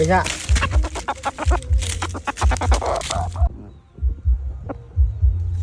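A Thai fighting rooster clucks close by in short repeated bursts with low throaty thumps, while someone talks over part of it.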